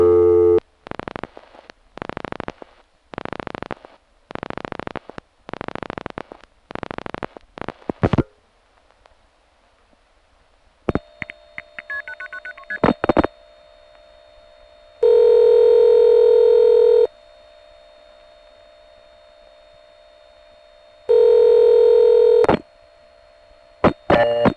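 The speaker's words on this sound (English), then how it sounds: "Here is that same number 2 ESS supervision test going through the other trunk" Number 2 ESS supervision test tones sent over an N1 carrier trunk on a Nyack crossbar tandem line: a burst of rapid dialing pulses, then steady tones and long pulsed beeps with faint line hiss between them.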